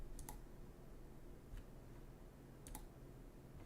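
A few quiet keystrokes on a computer keyboard, three or four sharp isolated clicks spaced apart over a low background hum.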